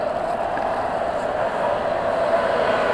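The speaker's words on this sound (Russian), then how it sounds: "Вот пришел поезд." A Warsaw metro train rumbles into a station with a steady whining hum over continuous low noise, fairly loud and close.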